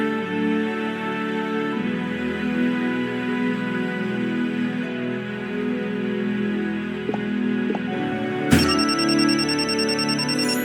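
A telephone hidden in a TV cabinet rings inside the Nancy Drew Dossier: Resorting to Danger video game, a steady electronic tone repeating over a low ambient hum, then a brighter burst of ringing near the end.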